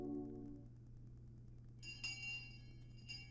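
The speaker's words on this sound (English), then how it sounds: "Just then we heard a bell far away, making the end of our lunch break" A distant school bell rings faintly from a visual novel scene in Higurashi, its bright tonal layers sitting over a steady low hum and continuing for a couple of seconds.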